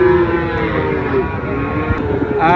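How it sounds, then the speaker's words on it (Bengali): Young calves moo loudly and close at a busy cattle market in Bangladesh, a long drawn-out low call with a second moo near the end. "এখানে অনেক বোকনা বাছুর আছে"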